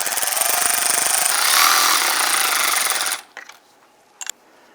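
A power tool buzzes loudly and continuously for about three seconds while snugging down Dodge Ram 1500 bumper bolts, then stops, followed by a few faint clicks.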